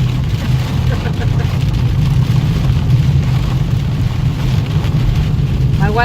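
Heavy storm rain pounds steadily on a moving car, making a dense, continuous roar over low road rumble, with wipers running at top speed and a voice talking over it.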